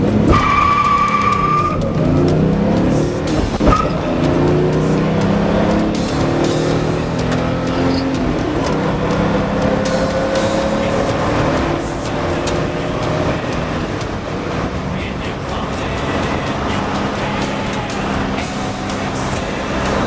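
A non-turbo Datsun with only an intake and clutch upgrade launches hard, engine revving high as the tyres skid and squeal, then the car pulls away and the engine note fades into the distance.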